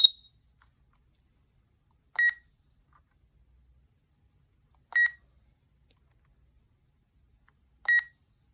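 A RadioShack 12-254 weather radio gives short electronic beeps, one near the start and three more single beeps spaced about three seconds apart, loud and clean against near silence.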